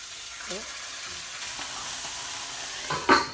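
A Juicy Lucy cheese-stuffed burger frying in a pan, giving a steady soft sizzle throughout with a few faint knocks and a louder clatter near the end.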